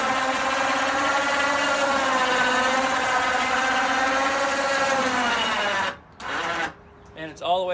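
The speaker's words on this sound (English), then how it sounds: "it uses an electric winch to go up and down with straps" An electric winch hums steadily as it raises an elevator bed on straps inside an enclosed trailer converted to a toy hauler. The close, even motor whine runs for about six seconds, then cuts off, and a few brief sounds follow.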